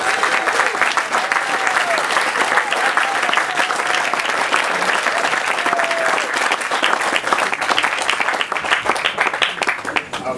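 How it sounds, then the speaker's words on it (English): An audience breaks into sustained applause, a loud, dense wash of clapping lasting the whole stretch, with faint voices mixed in beneath it. "Let's have a round of"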